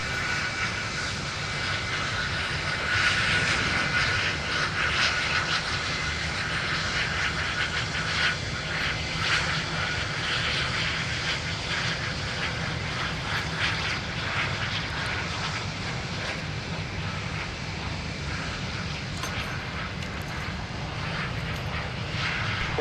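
Aircraft taxiing at Minneapolis–Saint Paul airport, a steady broadband engine roar and whine holding at moderate loudness for the whole stretch, with no talk over it.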